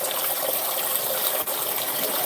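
Water runs from a kitchen tap in a steady, full gush, loud and close with no pauses or talk.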